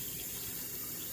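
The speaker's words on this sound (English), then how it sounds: "I'm going to add the hot water and I'm going to pressure it." Hot water poured into a pressure cooker, a steady, close, continuous rushing stream like a running tap, heard alone without talk.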